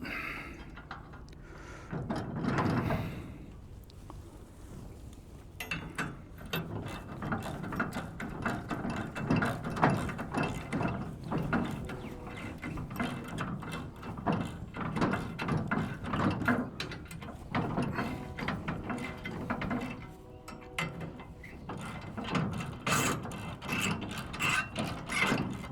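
Hay baler mechanism cranked around by hand, giving a steady run of mechanical clanks, ratcheting and gear rattle that goes on for the whole stretch at close range, with no talk.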